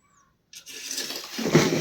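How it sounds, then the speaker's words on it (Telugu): Water splashes across the floor while an old house is cleaned, a sudden watery gush after a brief silence that swells into a close, rushing spray. "ఇంట్లో అయితే నీళ్ళు కొట్టేసాము."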